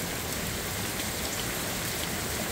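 Heavy rain mixed with hail during a thunderstorm in Van Nuys, California, making a constant broadband roar of drops and ice hitting nearby surfaces, unbroken and without voices.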